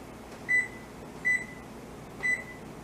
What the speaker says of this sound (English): I'm literally just using my timer on my stove, so I'm gonna set it for 20 minutes